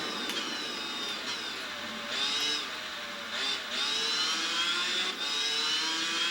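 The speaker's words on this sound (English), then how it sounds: "Sounds like the MS250R." A racing motorcycle in the video game Tourist Trophy screams at high revs, its whining engine note rising and dropping through several quick gear changes, loud and continuous with no talk.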